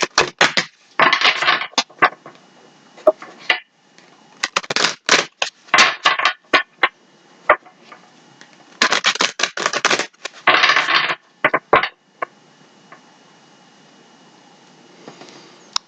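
Tarot cards shuffled by hand at close range in repeated bursts of crisp riffling and flicking, broken by short pauses and scattered taps, alone with no talk.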